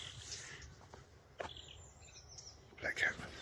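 A blackcap sings at an RSPB marsh in the early morning, short bright warbling phrases coming and going faintly over a soft outdoor background, with a louder burst of song near the end.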